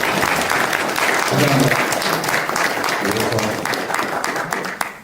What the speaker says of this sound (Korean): 여러분 큰 박수와 함께 이어가겠습니다